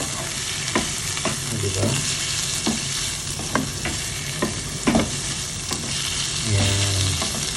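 Shrimp frying in a pan for adobong kangkong, a constant loud sizzle with spatula scrapes and taps at irregular intervals, close up, and a brief spoken word.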